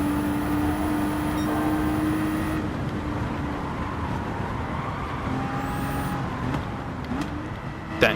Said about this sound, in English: I'm just coasting through the corners, letting the car turn in, and then accelerating when I feel like I can.